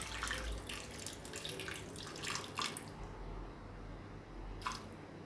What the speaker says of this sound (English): So I'm just gonna pour just a little bit of water.